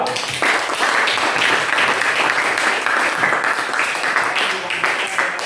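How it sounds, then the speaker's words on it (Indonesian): A classroom of students claps for a group that has just finished presenting answers on chemistry reactions, a dense, steady wash of applause that runs loud and unbroken for several seconds. "kalau dulu tepuk tangan dulu untuk kelompok 2"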